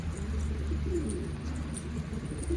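Soft pigeon cooing in a low, steady murmur, fairly faint against a constant background hum, with no voices.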